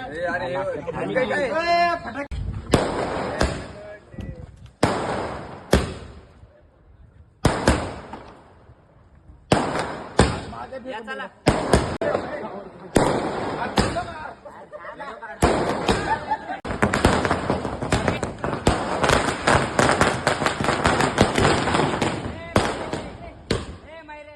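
Firecrackers bang repeatedly, sharp loud bursts in irregular clusters, some rapid crackling strings, with people talking and calling out between them.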